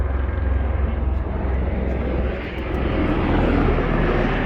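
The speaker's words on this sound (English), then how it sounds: "Helicopter." A helicopter roars overhead near the STRAT SkyPod in Las Vegas, its loud, steady engine drone filling the whole stretch without a break.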